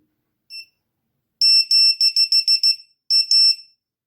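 VIFLY Beacon lost-drone buzzer on a Skydio 2 sounding shrill, piercing electronic beeps: one short chirp, then a rapid burst of about six beeps and a final pair, loud and close with no voices.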